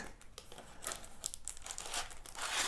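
Plastic packaging around a drawing tool is unwrapped, with soft crinkling and crackling that comes in uneven bursts, close but quiet. No voices are heard.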